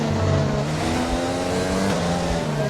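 F1 race car engine in the video game F1 2020, a loud continuous high-revving whine at near full throttle with steady harmonic tones, close and alone.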